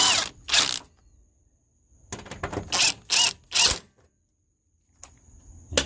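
Short bursts from a power tool driving 10 mm bolts during starter replacement on a 2005 Toyota Sienna, several quick close runs separated by pauses and faint clicks.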